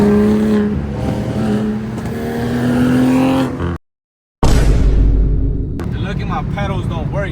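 BMW M3 revving and accelerating at a night car meet, a loud engine roar close by with rising pitch, a brief cut to silence, then a burst of throttle with crowd noise and voices around it.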